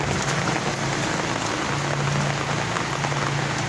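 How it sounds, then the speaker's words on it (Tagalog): Heavy rain pours steadily, a dense continuous hiss of drops hitting surfaces, loud and close with no voices. "Bro, umuulan pa guys oh. Cloudy pa. Lakas pa na ulan."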